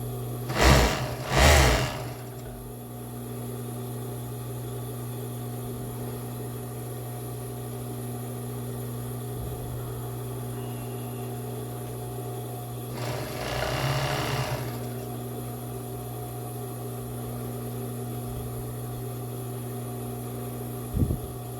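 A home sewing machine stitches two layers of lace together on a cropped bra, with two short bursts of running at the start and another longer run near the middle over a steady low motor hum.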